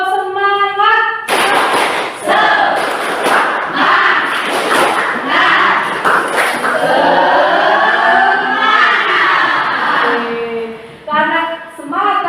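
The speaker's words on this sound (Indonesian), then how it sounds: "Ayo, tepuk semangat." Classroom of students doing a rhythmic clapping chant together, loud and close, with a crowd of young voices shouting in unison over repeated claps.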